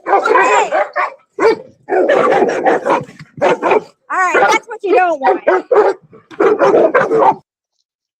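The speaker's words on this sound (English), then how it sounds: "Too much barking." Several dogs bark in sharp, repeated bursts close by, overlapping with a person talking.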